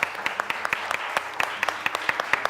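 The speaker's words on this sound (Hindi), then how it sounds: "जितने यहाँ पे बैठे हैं ना सारे मिलके बहुत जोर से दिल से तालियां बजाएंगे" A studio audience at a Ramzan television transmission claps in a sparse, uneven patter of individual hand claps, moderately close, without any talk over it.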